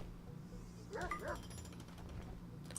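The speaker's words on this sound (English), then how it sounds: "Is this our dog? That's our dog!" A dog in the RimWorld colony-building game gives a single short bark or yip, faint against a steady background hum.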